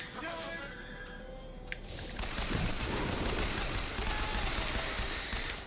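Rapid submachine-gun fire in a video game, a dense, continuous burst of shots that swells from about two seconds in and holds steady and loud to the end over busy game sounds.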